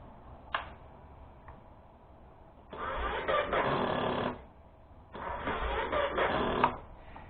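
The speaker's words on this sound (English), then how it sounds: "This is the sound of a dead battery." A Honda CRF250L motorcycle starter with a dead battery grinds twice in sustained bursts of a couple of seconds each, rough and stuttering, with a faint click beforehand and no engine catching.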